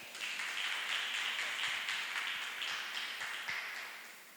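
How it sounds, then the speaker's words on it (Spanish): A church gathering's audience gives a warm round of applause to welcome a speaker at a Christian bioethics workshop, dense clapping that holds steady for several seconds before starting to thin toward the end. "lo vamos a recibir con un fuerte aplauso en esta preciosa hora"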